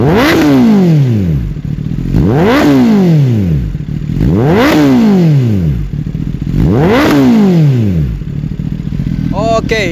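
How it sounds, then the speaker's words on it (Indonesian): Kawasaki ZX-10R sportbike fitted with a Spark aftermarket exhaust, revved to high rpm: four loud, close throttle blips at a steady rhythm, each rising sharply and falling back, with no talk over them. "itu dia suara dari Kawasaki ZX10R menggunakan knalpot dari brand Spark"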